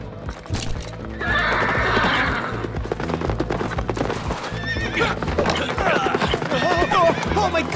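A spirited horse neighs and whinnies loudly while hooves clip-clop and gallop close by, with voices talking over the commotion.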